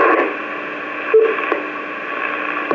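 A 10-meter FM repeater transmission with intermod interference comes through as steady, loud radio hiss and a garbled signal, with faint tone-like blips that continue throughout.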